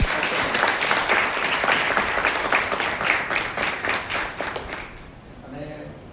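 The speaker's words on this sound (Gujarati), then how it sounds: "એના માટે આખી ટીમને ફરીથી આપણે જોરદાર તાળીઓથી વધાવીએ" Loud, dense audience applause fills a valedictory ceremony hall in steady rapid claps, fading out near the end as a few faint voices carry on.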